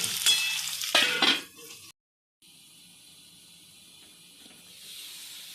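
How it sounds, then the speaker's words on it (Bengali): Potatoes are stirred in a wok, first with scraping clatter, then giving way to a soft, steady sizzling hiss of frying close by. "আলু এবার নেড়ে চেড়ে দেওয়া হবে।"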